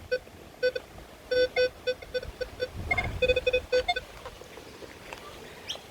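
A Minelab Equinox metal detector gives a string of short, high electronic beeps in irregular bursts, some doubled or rapid, close by over faint outdoor background noise.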